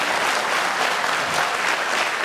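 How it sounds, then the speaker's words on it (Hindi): Audience applause at a Buddhist conversion (Dhamma Diksha) convention in Latur, a steady dense wash of many hands clapping at moderate volume throughout. "तालियां कम बज रही है"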